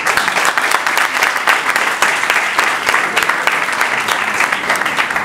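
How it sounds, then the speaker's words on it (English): Steady applause from an audience at a political fundraiser fills the space, a dense crackle of clapping hands that holds at an even level throughout. "how about a big hand for Tom Suozzi, the next county executive?"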